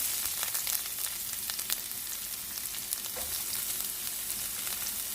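Sliced onion sizzling loudly in about two tablespoons of oil over high heat, a dense continuous crackle with no talking.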